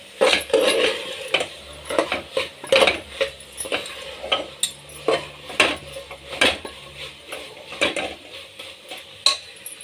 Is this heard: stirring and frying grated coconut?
yes